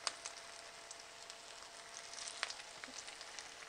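Baby corn and spinach tikkis fry gently in hot oil, giving a soft, faint, continuous crackle with occasional small pops and no voices.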